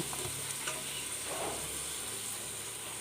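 Crushed ginger and garlic with green chillies sauté in a hot pan for a tuna fish biryani, giving a steady close sizzle with a few stirring scrapes and no talking.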